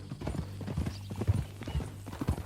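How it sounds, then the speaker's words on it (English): Horse hooves clopping in Red Dead Redemption 2, a steady walking rhythm of dull thuds on a dirt ground, close by, with a faint low hum underneath. "That a new horse?"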